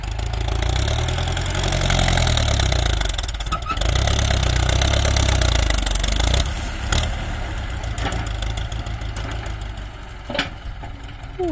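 Ford 6640 tractor engine labouring at full power on a contract field job, a loud, steady low-pitched diesel roar with rhythmic surging, close to the microphone throughout with no talk.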